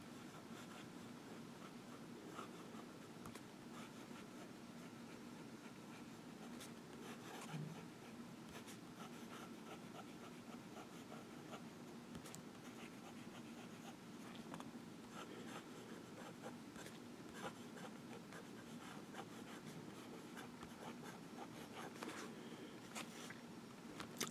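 Lamy LX Rose Gold fountain pen writing on Rhodia grid paper, a soft, steady scratch of nib across the page running throughout, close and quiet with no talking.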